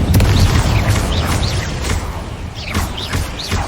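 Incendio fire spell blasts in Hogwarts Legacy, a loud burst of roaring flame and booming impacts, followed by several quick whooshing spell sounds and crackles over a dense game soundscape.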